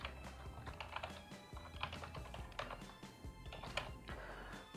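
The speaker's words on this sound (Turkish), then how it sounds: "Ve şunu da hani kendi mailimi yazayım." Fingers typing an email address on a computer keyboard during a WordPress setup, a steady close run of rapid key clicks with a few louder taps, alone with no talk.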